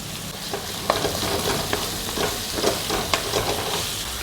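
Chicken with slit green chillies and tomato fries in a pan in a steady, close sizzle, broken by repeated scraping stirs and light clinks of a spatula against the metal.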